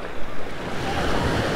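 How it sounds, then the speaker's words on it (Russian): Sea waves surging and breaking on a shore, a steady broadband wash with wind buffeting the microphone, swelling in a couple of louder gusts and continuing without pause. "Хорошие волны поднялись"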